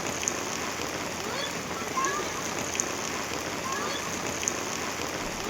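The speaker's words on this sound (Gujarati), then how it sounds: "વલસાડના વાપીમાં માત્ર 2 જ કલાકમાં 4 ઇંચ વરસાદ ખાબકતા જનજીવન અસ્તવ્યસ્ત થયું" Heavy rain pouring down in Vapi, Valsad, Gujarat, a dense, steady hiss of drops hitting surfaces that holds constant from start to finish.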